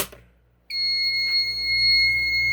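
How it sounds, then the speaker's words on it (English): A fire alarm panel goes into alarm after a pull station is activated, its piezo sounder emitting a loud, continuous high-pitched tone that starts abruptly after a brief quiet moment. "the panel just went into an alarm because the pull station is activated. And you can see the alarm is going off"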